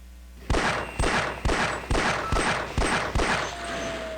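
Seven evenly spaced gunshots ring out alone at roughly half-second intervals, each sharp crack trailing a brief echo, fired at turrets in the video game Half-Life.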